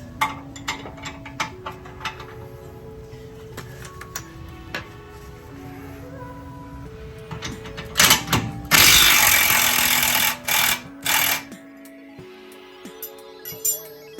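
A hand ratchet works a 19 mm bolt on the lower control arm of a Toyota Sienna Hybrid, rapid clicking pawl strokes in bursts with pauses, a loud burst of a power tool in the middle, close up.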